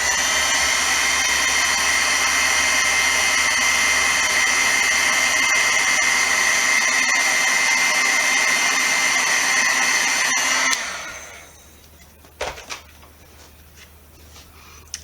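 A heat tool blows steadily over embossing powder on a goat-themed greeting card, a loud continuous whooshing whine that runs for about ten seconds and then cuts off, followed by a few small clicks.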